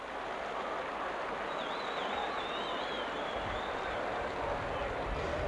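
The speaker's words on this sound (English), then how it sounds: "Good applause from the Warrington fans" A steady, even wash of crowd applause from Warrington rugby league fans at a 1986 match against Castleford, distant and continuous throughout with no distinct individual claps.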